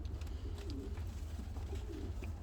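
A female Volski pigeon gives soft, repeated low coos close by, a few gentle rolling calls over a steady low background hum.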